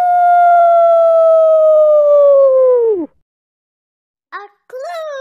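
A human voice imitates a wolf howl: one long, loud, steady tone that slides down and stops after about three seconds, followed by a few short vocal yips.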